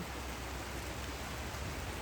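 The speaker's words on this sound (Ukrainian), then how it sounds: "І дощик таку зразу дає свіжість" Outdoor rain falls as a steady, even hiss of dense drops, faint and continuous without any breaks.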